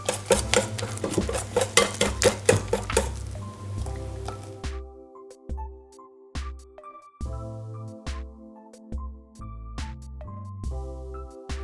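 Protein pancake batter stirred in a bowl, a quick run of wet, squelching scrapes at first, then slower spaced clinks and taps of a utensil against the bowl.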